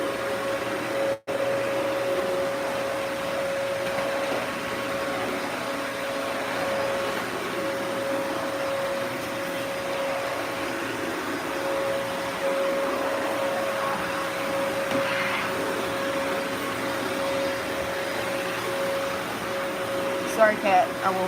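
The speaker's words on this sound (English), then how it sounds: "I'm just going to vacuum the whole house." A Dyson vacuum cleaner runs steadily while the whole house is vacuumed, a continuous broadband whir with a thin whine, holding level and moderately close throughout, with a brief clunk near the start and some small knocks at the end.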